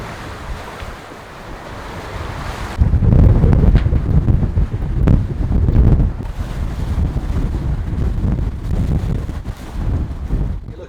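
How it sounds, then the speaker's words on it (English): Strong wind buffets the microphone aboard a sailboat at sea, with waves and rushing water loud and close, surging in gusts and carrying on without talk. "we got here and the wind was much stronger"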